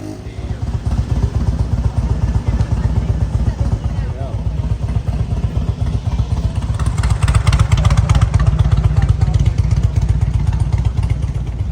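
A Suzuki 185 motorcycle engine running nearby with a loud, rapid pulsing beat that swells as it revs toward the end, with people talking over it.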